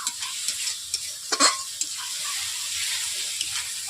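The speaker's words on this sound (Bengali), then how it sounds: "উপকরণ দিয়েই আমি মশলাগুলো কষিয়ে নিচ্ছি।" A spice paste for patal posto sizzles in a hot pan as a spoon stirs and scrapes through it, with a sharper clatter near the middle, close and steady, with no talking.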